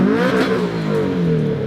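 Subaru STI engine revving in first gear with the clutch held in, a loud close rising-then-falling rev lasting under two seconds, no talk.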